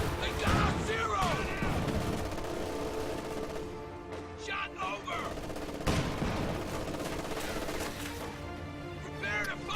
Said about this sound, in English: These machine guns have been used really effectively to keep him suppressed during all of these fights.